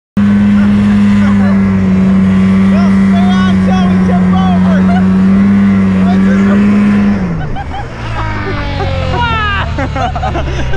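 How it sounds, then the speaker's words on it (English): A snowmobile engine runs during a ride through deep snow, loud and close with a steady droning pitch that drops near the end as the machine slows, with voices speaking over it. "we went for a snowmobile ride"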